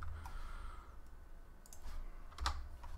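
Quick, light keystrokes on a computer keyboard, a scattered run of soft clicks with a sharper tap near the end, heard close up against a low room hum with no voices.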